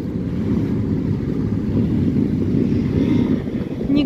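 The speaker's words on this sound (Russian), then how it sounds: "Ой, сильный ветер." Strong gusting wind buffets the microphone outdoors, a dense low rumble that stays loud and continuous throughout, with faint background sound from a gathering of bikers at a season-closing event.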